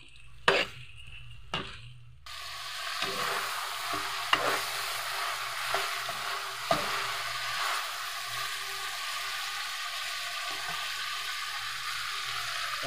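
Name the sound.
sautéing chicken in a pan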